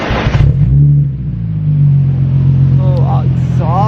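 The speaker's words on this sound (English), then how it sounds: "Oh, exhaust action." A Nissan 350Z with a 6-speed manual revs its exhaust nearby, a loud deep rumble rising and holding, with voices talking over it and light revs near the end.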